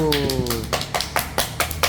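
Hands clap in a short burst of sharp, evenly spaced slaps, close and fairly loud, following a voice at the start during an informal interview.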